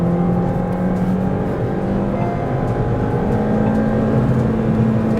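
A 2024 Honda Amaze i-VTEC engine revs hard toward 7000 rpm, a loud continuous droning whine heard from inside the car, holding steady with no voices.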